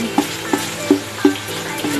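Ground meat sizzling and browning in a pan for sweet, creamy spaghetti, a steady close frying hiss broken by several soft stirring scrapes at a regular pace, with no voices.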